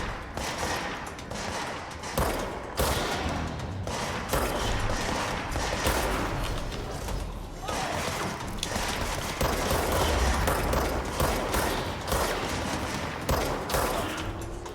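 Dense gunfire from the video game Control rattles almost continuously, sharp loud shots layered in rapid bursts with mechanical clatter throughout, no talking.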